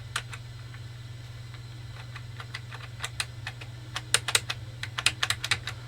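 Keys being typed on a Sinclair QL computer keyboard, sparse clicks at first then quicker bursts, close up over a steady low electrical hum.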